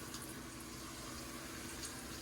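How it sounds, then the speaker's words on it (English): A tortilla sizzles and bubbles in a very hot pan: a steady, faint, dense crackling hiss that holds evenly throughout with no voices. "it's bubbling up because it's super hot"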